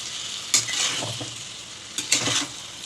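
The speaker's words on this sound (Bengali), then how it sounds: "মাছটা দিয়ে এবার একটুখানি কষিয়ে নেব" Lote fish coated in salt and turmeric frying with spices in a pan: a soft, steady sizzle broken by two bursts of louder spatter and stirring scrapes.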